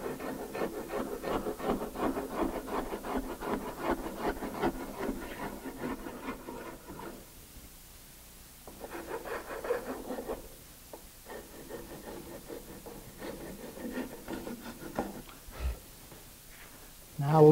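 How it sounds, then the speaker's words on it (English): A hand rasp is worked along a wooden furniture leg for a base with mouldings, making repeated rough scraping strokes in bursts with short pauses between them, close and moderately loud. "Now I left the line on this side, so I'm just rasping to it."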